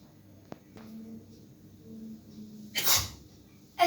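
A single sharp sneeze in a short English politeness lesson, loud and close after a quiet breathy lead-in, followed by a brief voice.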